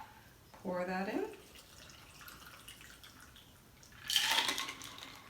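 A mai tai cocktail is poured into a glass, a brief splashing gush of liquid near the end following a short stretch where someone speaks.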